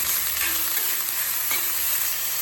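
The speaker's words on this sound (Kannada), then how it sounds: "ಇದು ಗೋಲ್ಡನ್ ಫ್ರೈ ಆಗಬೇಕು. ಆನಿಯನ್ನು ತುಂಬ ಕೆಂಪಾಗೋದೇನು ಬೇಡ" Onions sizzle steadily in a hot pan as they fry toward golden, a dense close crackle with a faint stir or two and no voices.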